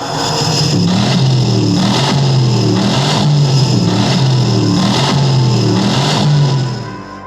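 A car engine revs repeatedly, loud and close, with rhythmic surges of rising and falling pitch roughly every second over a steady mechanical roar.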